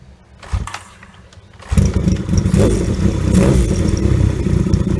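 A Yamaha XS750 motorcycle with a dead battery and freshly rebuilt carbs fires up after a quiet moment and settles into a loud, steady running rumble close by, with no talking.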